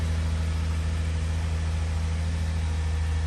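A 2009 Lexus IS250's engine idles steadily at close range, a continuous low rumble with no other sounds, check engine light off.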